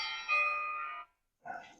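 An alarm chime goes off nearby, with a sustained ringing tone, then a short second note after a brief pause, fairly quiet and heard alone.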